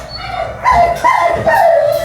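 Dog whimpering and letting out short yips and barks, close and loud, a few high whining cries in quick succession after a brief quiet start.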